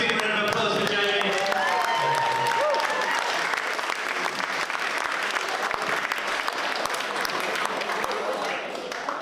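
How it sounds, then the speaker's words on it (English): Wedding guests applaud after a reception speech, dense and sustained clapping with cheers and voices mixed in, loud and close throughout. "Nice big round of applause for Jamie"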